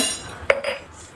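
A metal spoon stirs cake batter mixed with instant coffee in a bowl, giving one sharp clink against the side followed by softer scraping and knocking, close and quiet with no talk.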